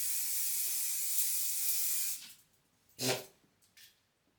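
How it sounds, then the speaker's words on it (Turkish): Hair spray hisses from a can onto hair in one sustained two-second burst, followed by a few short, quieter puffs. "şöyle bir sprey sıkacağım"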